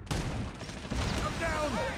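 Dense, rapid gunfire from the Call of Duty Mobile video game, loud and continuous across the whole moment, with warbling tonal sounds rising near the end.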